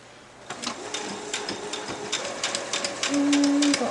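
A sewing machine runs a straight back stitch on a tulle skirt, a close rapid mechanical chatter that starts slow and speeds up over a few seconds.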